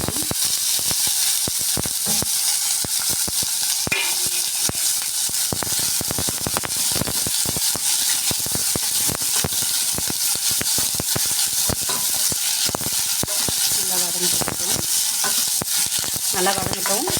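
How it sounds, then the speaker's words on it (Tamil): Curry leaves, garlic and onion sauté loudly in a pan, a dense continuous sizzle and crackle punctuated by frequent stirring scrapes and pops throughout. "நல்லா வதங்கட்டும்."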